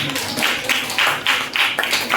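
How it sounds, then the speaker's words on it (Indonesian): A small classroom group claps for a pupil during a teaching session in Indonesia, with several distinct bursts of close, fairly loud hand claps in an uneven rhythm. "Tepuk tangan untuk Adit ya"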